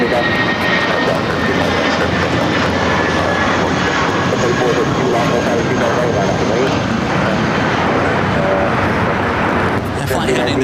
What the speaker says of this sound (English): American Airlines Flight 1719, an old America West A319